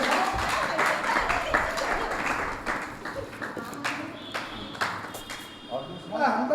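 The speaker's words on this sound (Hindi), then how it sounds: "जोरदार तालियां।" Audience applause at an evening devotional gathering honouring a Jain monk, a sustained broad clatter of many hands clapping, moderately loud and steady throughout, with occasional louder claps and some crowd voices mixed in.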